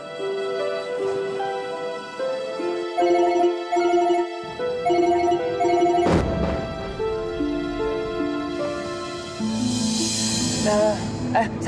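A mobile phone rings with an incoming call, its melodic ringtone looping brightly and clearly, with voices talking over it.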